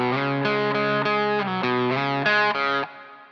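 An electric guitar with distortion and chorus plays a slide riff, sustained chords shifting through several steps and then cutting off, with no talking.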